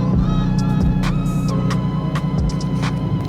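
A loud, modified, worn-out street takeover car engine runs nearby with a heavy throbbing rumble and uneven pulses, unbroken for several seconds with no talking.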